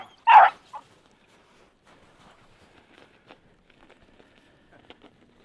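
A small rabbit-hunting dog gives one loud, sharp bark up close, then a shorter yip, followed by faint scattered rustles and footsteps in a quiet outdoor setting.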